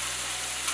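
Yakitori-style chicken liver sizzling in a well-heated frying pan, a steady close hiss of frying fat throughout the short moment.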